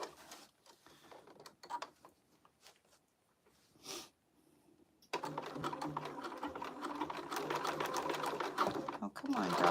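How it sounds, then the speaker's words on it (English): A domestic sewing machine stay stitching cut pieces of a crossbody bag, first with quiet handling and a brief whir, then a loud, steady run of rapid stitching near the end. "So I'm just gonna stay stitch these so that they stay where they need to be."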